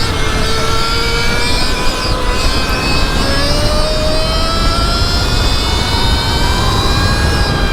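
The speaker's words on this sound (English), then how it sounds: "Oh, that's a two-stroke." Two-stroke dirt bike engine revving hard, a loud, close, continuous buzzing wail with rising pitch sweeps throughout, no speech.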